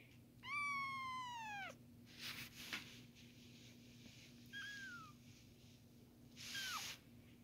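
A 20-day-old kitten gives a clear high meow, then a few fainter shorter mews and rustling, close by and alone.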